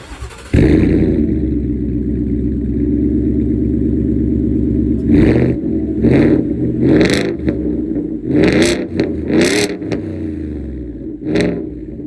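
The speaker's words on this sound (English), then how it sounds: "Roush supercharged with a Borla Attack catback exhaust." A deep, rumbling supercharged Roush V8 in a lifted Ford F-150 with a Borla Attack cat-back exhaust idles loudly, then revs repeatedly in sharp bursts, each throttle blip rising and falling close by.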